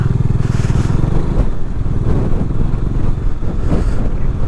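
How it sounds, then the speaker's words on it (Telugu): Strong wind roars steadily across the microphone during a motorcycle ride along a narrowing mountain road in Spiti, with low engine drone underneath, loud and continuous throughout. "గట్టి గాలి సౌండ్ ఉంది."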